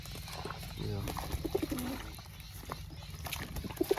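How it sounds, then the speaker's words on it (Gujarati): Pigeons coo softly in short bursts while bathing under falling water at a loft, heard amid steady background noise and a person talking. "કબૂતરા તો બધા નાવા માંડ્યા છે અત્યારે પાણી પડે છે અહીંયા"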